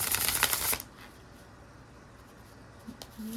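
A tarot card deck gets a quick riffle shuffle, a close, crisp burst of flicking cards for under a second, then near quiet with faint handling.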